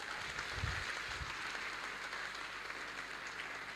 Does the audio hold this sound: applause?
yes